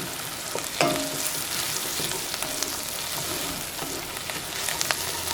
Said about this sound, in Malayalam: ഇനി മഞ്ഞൾപ്പൊടിയും ഇതിൻ്റെ കൂടെ കിടന്നിട്ട് നന്നായിട്ട് മുരിയണം